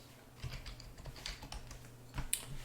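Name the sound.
typing a password on a computer keyboard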